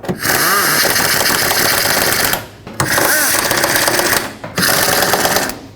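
A power ratchet on a Chevrolet Express van snugs up the 10mm fan shroud bolts, giving three loud, close bursts of rapid buzzing rattle separated by brief pauses.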